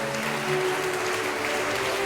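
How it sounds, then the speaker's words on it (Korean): An audience at a launch ceremony and rally applauds to welcome a speaker, a steady, even wash of many hands clapping that continues for the whole stretch. "이도상 박사님 다시 한번 큰 박수로 환영해 주시면 고맙겠습니다"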